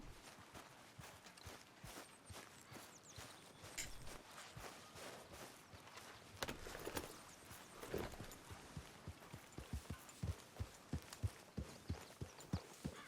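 Video game horse hooves (Red Dead Redemption 2) clip-clop steadily and grow louder and sharper as the horse draws near over a low ambient background.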